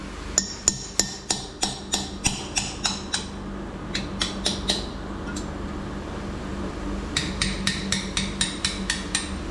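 A hammer drives a core plug out of a rusty 1275cc Mini A-Series engine block with sharp metallic strikes. A quick run of blows is followed by a pause, then a second burst of even, ringing taps.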